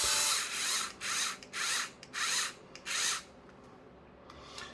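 A power drill snugging up screws on a Traxxas Slash 2wd RC car kit, five short, close bursts of whirring, each about half a second long, separated by brief pauses, then quiet handling.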